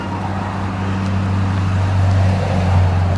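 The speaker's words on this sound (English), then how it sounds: "I'll shut up for a while the traffic has its little noisy session." Road traffic passing close by on a suburban road next to a hiking trail, a loud steady roar with low engine rumble that swells slightly as vehicles go by, with no voices.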